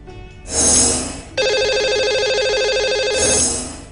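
Telephone ringtone on a live call-in TV show as a caller is dialed: bright electronic warbling bursts, loud and steady, repeating with short gaps and no talk over it.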